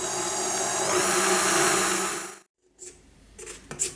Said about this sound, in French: Je mélange au robot.